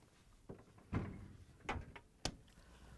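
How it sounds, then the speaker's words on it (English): A Whirlpool, KitchenAid or Maytag refrigerator freezer door swings shut with a couple of light knocks and a firmer thud, followed by a short sharp click, all close by in a quiet kitchen. "And now we can close the freezer door."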